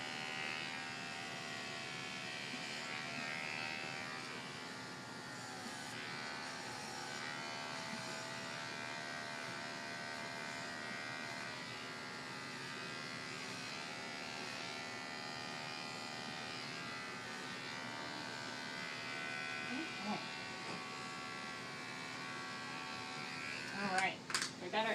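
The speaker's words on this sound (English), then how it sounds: "So I'm going to go ahead and prep the area. And we want to start as low as possible. So I'll be shaving down here." Electric clippers buzz steadily for a prolonged stretch while shaving an animal's leg ahead of cephalic catheter placement, with a person talking over the hum and brief handling knocks near the end.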